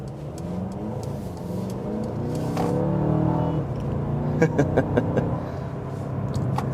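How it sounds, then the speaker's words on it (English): A 2023 Mercedes-Benz CLA 250 with a turbocharged four-cylinder and seven-speed dual-clutch automatic pulls hard under acceleration, pitch climbing steadily, with a few sharp ticks and clicks near the end over continuous road noise. "get acceleration here, see what the CLA is capable of with this turbocharged 4-cylinder engine"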